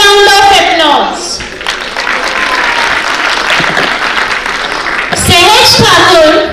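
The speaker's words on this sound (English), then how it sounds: "Let's welcome them with a huge round of applause" Loud, sustained audience applause welcomes school performers onto the stage at a children's annual function evening, with cheering voices rising at the start and end over a dense wash of clapping.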